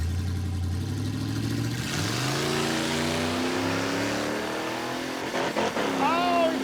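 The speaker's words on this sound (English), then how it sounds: "Oh, he's on the rev limiter." Engine of a 1995 Chevy Caprice 9C1 held at high revs, bouncing on the rev limiter with a loud, steady, buzzing drone that rises in pitch and ends in a brief stutter.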